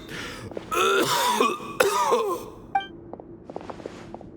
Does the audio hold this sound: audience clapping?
no